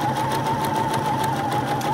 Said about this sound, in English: You want to make sure you're not stitching over your first stitch